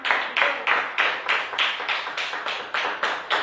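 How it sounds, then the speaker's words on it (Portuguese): A church congregation claps in a steady unison rhythm, about three claps per second, sharp and even without cheering or voices. "Vamos aplaudir esse Deus"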